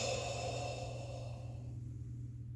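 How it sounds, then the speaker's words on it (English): Exaggerated, drawn-out breathing during a breathwork exercise, with a steady airy rush that fades slightly toward the end, heard alone and close. "Now I am exaggerating the breathing to make sure everyone can hear it."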